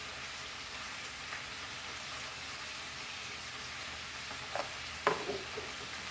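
Spices with turmeric powder are stirred in a pan for a Goan clam stir-fry, giving a faint, steady sizzle with a few soft scraping touches of a spoon near the end, and no talking.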